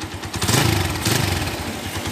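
A 2012 Yamaha Tiger Revo motorcycle engine revved twice in quick bursts, loud and close, a rough throaty roar that settles back toward idle.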